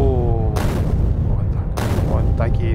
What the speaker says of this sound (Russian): Она может взрывать скалы.